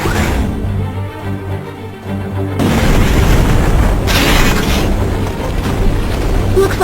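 Explosion aboard a spaceship in the Star Wars Clone Wars Jedi Alliance video game: tonal music gives way to a loud, sustained roaring blast rumble that holds steady to the end.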